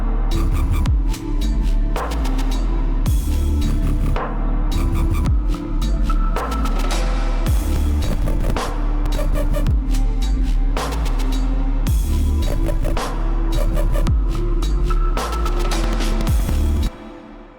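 A dungeonstep electronic track with layered synths and heavy drums plays loud and dense throughout, with regular pounding low hits and bright repeated bursts, cutting off just before the end.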